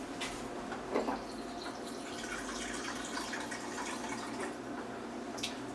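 Vegetable stock is poured into a blender, a soft, continuous liquid trickle and splash with faint drips, heard alone for several seconds at low volume.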